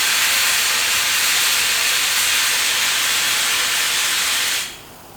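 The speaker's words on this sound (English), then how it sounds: "So using the 60 grit, cleaning up the bottom." Coarse 60 grit sandpaper rubbed across the bottom of a pottery piece, a dense continuous scratchy hiss held for several seconds before stopping abruptly near the end.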